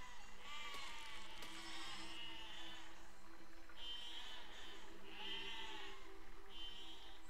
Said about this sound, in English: I love how the sheep are just walking to the machine.